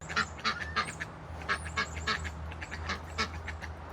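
Several ducks quack repeatedly in quick, uneven bursts, close and clear over a low background hum.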